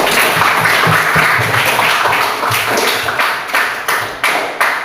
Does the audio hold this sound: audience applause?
yes